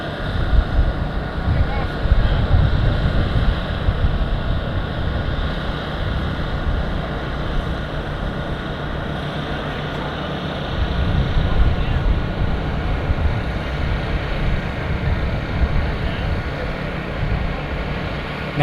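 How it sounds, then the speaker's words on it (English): Wind rushes steadily over the struts and control surfaces of the Jelly Belly aerobatic airplane as it glides with its engine off during a deadstick descent at an Oregon airshow, a broad continuous roar that swells slightly partway through. "listen to the sound of the wind rushing through the struts and over the control surfaces of the Jelly Belly airplane"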